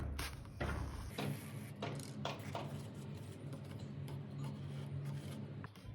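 Thread is pulled tight through paper signatures during kettle stitch bookbinding, giving a close, quiet series of rasping drags and soft rubbing strokes over a few seconds.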